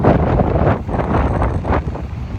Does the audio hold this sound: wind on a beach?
yes